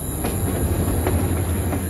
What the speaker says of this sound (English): Lucas Greenfield could hear the train whistles in the distance